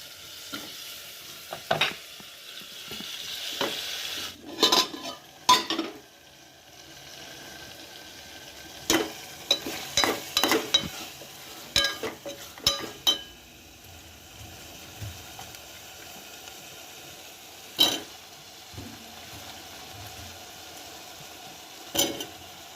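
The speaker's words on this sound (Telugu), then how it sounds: "ఇప్పుడైతే టమాటాలు వేద్దాము." Tomatoes tossed into a hot pan for a drumstick curry, a low continuous sizzle broken by repeated spoon stirs and scraping clatters at irregular intervals, no voices.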